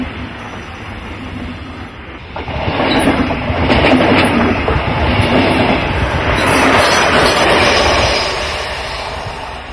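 A diesel train rumbles past on the rails in northern Germany, a loud steady roar with faint clacking and a high metallic whine that swells and then slowly fades.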